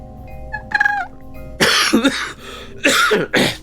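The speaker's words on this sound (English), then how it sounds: "God damn it! This cough. I can't wait for it to go away." A few harsh, raspy coughs burst out close by after a short hoarse vocal sound, separated by brief pauses.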